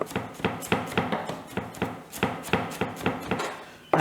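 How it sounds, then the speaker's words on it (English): Rough chopping of vegetables for ferments, a knife striking a wooden board in a steady run of about a dozen firm, evenly spaced chops, close and clear with no talk. "Just roughly chop them up."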